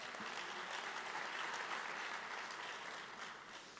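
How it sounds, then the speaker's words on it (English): Sustained applause from an audience at a school district Teacher of the Year celebration, thanking event sponsors; a dense, steady wash of many hands clapping that fades slightly toward the end. "Let's give them a big round of applause."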